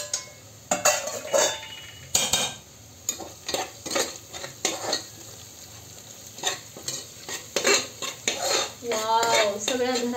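Ground garam masala being stirred into rice in a metal pot, with repeated clanking and scraping of a spoon against the pot over a soft sizzle, irregular and close.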